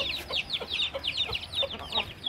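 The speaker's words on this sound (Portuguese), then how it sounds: "A galinha está nervosa por causa dos pintinhos dela." A nervous farmyard hen clucks near her chicks, her quick, agitated calls repeating in a steady stream close by with a faint backdrop of outdoor noise.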